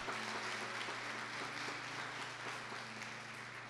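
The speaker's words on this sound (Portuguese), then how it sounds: "vamos aplaudir a glória de Deus na vida dessa irmã" Congregation at a church gathering applauding, a faint, distant wash of clapping over a low steady hum.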